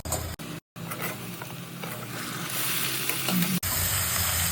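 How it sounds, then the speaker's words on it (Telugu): Drumstick pieces tumble into frying onions in an Andhra-style pot and get stirred, a loud sizzle with clattering spoon scrapes, a brief gap near the start, and a brighter hiss building toward the end. "ఇప్పుడు ములక్కలు వేసుకుంటున్నానండి"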